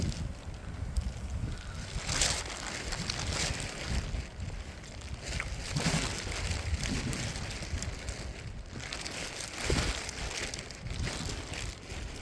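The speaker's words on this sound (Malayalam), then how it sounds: "എന്തൊരു കാറ്റ്" Strong wind gusting across a misty, fog-covered rocky mountain trail, a steady roaring rush buffeting the microphone with surging peaks throughout.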